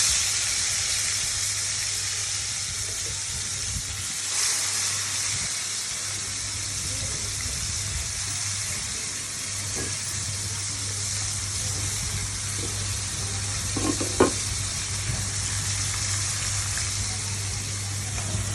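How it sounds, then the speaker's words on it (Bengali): Fish sizzles steadily in a hot kadai, with a constant close frying hiss throughout and a brief clatter near the end. "এবার এই মাছটা আমি গরম কড়াইতে দিয়ে দেব।"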